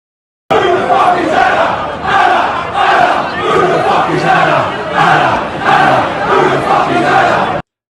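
A large, fired-up British crowd chanting in loud rhythmic unison, phrases rising and falling in repeated waves with no pauses.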